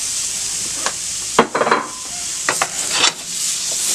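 Corned beef lands in a pan of frying potatoes with a crisp crust, raising a steady sizzle broken by a few sharp scraping, tossing bursts before settling back into a continuous hiss.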